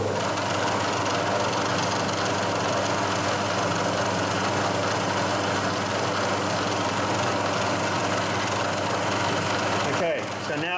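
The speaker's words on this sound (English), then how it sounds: "I think it's just the motor in the phase converter that's not balanced very well." A poorly balanced motor inside a lathe's phase converter runs with a steady hum and mechanical drone, loud and constant, stopping abruptly near the end.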